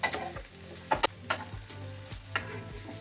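Jackfruit pakoda deep-fries in mustard oil, a busy bubbling sizzle broken by several sharp clinks and scrapes of a spoon turning the fritters, heard up close without any speech.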